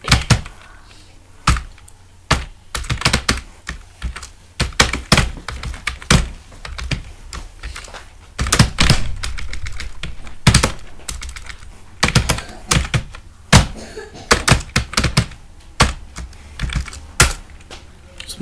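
Keystrokes on a computer keyboard while entering values during Python programming, an irregular run of crisp, close clicks and taps with short bursts and pauses, no voices.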